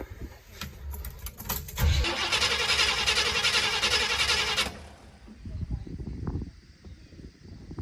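A 1985 GMC C35 crew cab truck engine cranks with a loud, sustained grinding whir for about three seconds, then cuts off, followed by quieter, uneven rumbling and clunks nearby.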